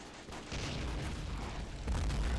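Continuous heavy booming and artillery-like gunfire from a WW1 battle between Bulgaria and Serbia in the video game Battle of Empires 1914-1918, loud and rumbling throughout with a stronger swell near the end.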